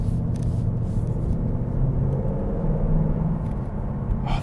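A 2022 Ford Mustang GT with active exhaust rumbles from inside the cabin during a test drive, a steady deep engine drone holding at an even level throughout.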